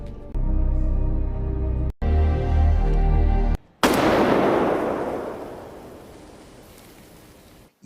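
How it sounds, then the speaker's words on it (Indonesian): A single loud gunshot in a film scene, fired at a package of drugs, bursts in sharply after a stretch of music and rings out in a long, fading reverberant tail. "Nick justru menembak 1 bungkus narko berisi alat pelacak"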